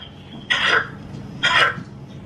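Two short, loud coughs a second apart from a person heard over a FaceTime call, with faint background noise between them.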